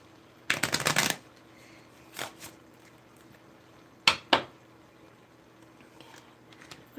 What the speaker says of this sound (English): I just feel like I got to shuffle it one more time.